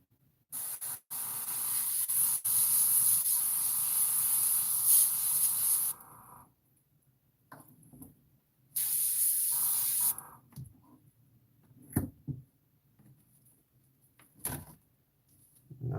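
An airbrush or spray can coats small model P-51 cockpit parts in aluminum-toned paint in close, loud hissing bursts: one long spray, a pause, then a second shorter burst, followed by faint handling clicks.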